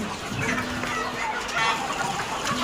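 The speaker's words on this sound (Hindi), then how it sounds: "ये मुर्गे हम लोग को देख के बहुत परेशान हो रहे हैं, एकदम से भाग रहे हैं" Chickens cluck and squawk agitatedly inside a poultry farm shed, many birds close by in a continuous busy chorus, with a steady hum running underneath.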